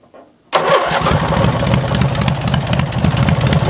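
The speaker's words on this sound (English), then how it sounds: "because it's still running at governor speed, so just however much throttle you give it" A racing lawn mower engine starts with a sudden roar and then holds a steady, loud, buzzing run at governor speed.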